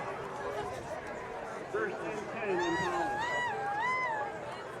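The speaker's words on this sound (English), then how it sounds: "That got the crowd going." A high school football crowd at a Poudre HS vs Fort Collins HS game reacts to a kick return, a swelling hubbub of cheering voices and shouts in a stadium, heard at a moderate distance.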